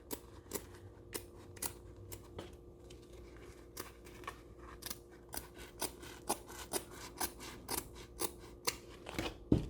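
Sharp scissors snip through cork fabric for a zipper pocket panel in bag making, a steady series of crisp, close cuts in a quiet room.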